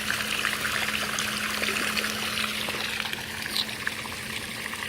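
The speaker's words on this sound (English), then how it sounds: "I'm running the water hose, and for two, I've got the fountain running" A garden hose and an Intex pool fountain run together, making a steady broadband trickle and splash of water with a constant low hum, with no talk over it.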